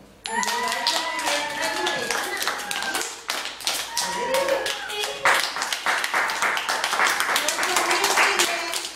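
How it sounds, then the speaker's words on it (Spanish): A primary school class claps after a fable reading, sharp uneven handclaps from a small group of children mixed with overlapping kids' voices and chatter, fairly close and lively. "Venga, un aplauso."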